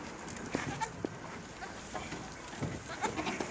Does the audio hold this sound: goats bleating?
yes